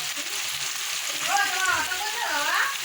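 Meat tipped into spice paste already fried until the oil separates, sizzling steadily in the pan with a crackling hiss throughout; a voice briefly sounds over the frying partway through.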